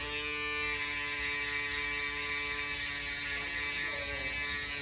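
A Black Knight electric foil shaver runs continuously close up, a steady buzzing hum with even tone and no speech.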